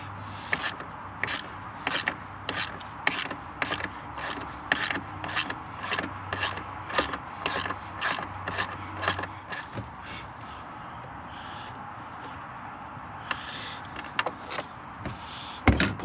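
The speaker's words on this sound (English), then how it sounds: "We need to loosen that one off." A tight battery hold-down bolt on a 2020 RAM Classic being loosened with a ratchet, giving a fast run of regular, close clicking strokes for about ten seconds, then slower, scattered metal clicks and scrapes.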